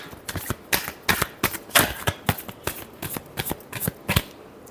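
Tarot cards are shuffled close by in quick, repeated riffling bursts, a steady flurry of crisp papery flicks that carries through without pause and with no speech.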